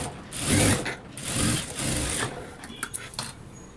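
A sewing machine runs in two or three close bursts, stitching the lining piece of a blouse, its motor whirring loudly before trailing off into lighter clicks and handling noises.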